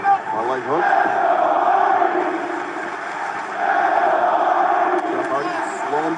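Capacity arena crowd at AEW Dynamite St. Patrick's Day Slam chanting for the Hardys, a loud rhythmic roar swelling and falling steadily throughout.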